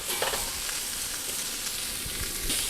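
Orange pepper cubes, zucchini cubes and sliced jalapeno stir-frying for a keto stir fry, a steady close hiss of sizzling oil with faint crackles and light stirring throughout.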